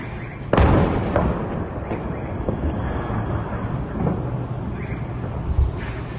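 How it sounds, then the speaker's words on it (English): A distant explosion in a war zone gives a sudden loud boom, followed by a long rumbling roar that slowly fades into lingering low-frequency noise, with a few fainter thuds later on. "Oh, you see the explosion out there from afar."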